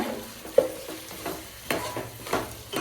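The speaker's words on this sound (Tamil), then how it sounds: "நல்லா கிளறி விட்டுக்கோங்க" Large chicken pieces frying in oil for white biryani are stirred in the pan, with rhythmic spoon scrapes roughly every half second over a continuous close sizzle.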